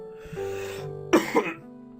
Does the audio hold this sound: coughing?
yes